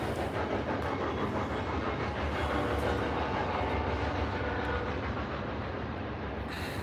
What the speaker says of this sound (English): Train, go away.